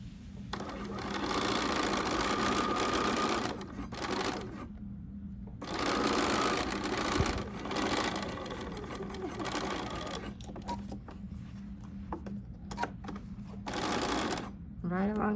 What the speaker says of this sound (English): we're just gonna go through and baste across all this upper edge with our sewing machine